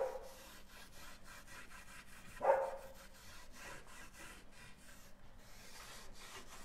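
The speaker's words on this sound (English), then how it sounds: "So I'm just wiping my cloud white onto my piece of wood." Close, soft rubbing strokes of a cloth spreading cloud white lime wash over wet wood, repeating steadily with one brief louder swipe partway through and no talking.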